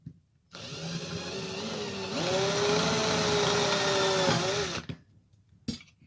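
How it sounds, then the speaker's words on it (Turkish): An electric drill whirs steadily for several seconds, its pitch rising as it bites in, then cuts off abruptly, followed by a small clack. "Hepsini bunları tek tek deleceğim."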